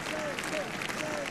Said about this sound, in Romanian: așa a strigat mulțimea la funeraliile lui Ioan Paul al II-lea